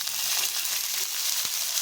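Mustard and cumin seeds sizzle in hot oil as water is poured in, a steady close hiss that holds throughout with a few faint pops and spatters.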